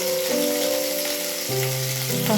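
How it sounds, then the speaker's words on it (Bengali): Potato and tomato pieces fry in hot oil with a dense, continuous sizzle, joined by steady sustained tones that shift pitch a few times. "এরপরে আমি আলু আর টমেটো দিয়ে একটু ভেজে নেব"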